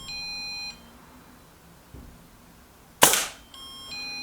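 A single sharp crack from a Brocock Concept Lite air rifle fired at a target, loud and close, with electronic beeps before and after and no talking.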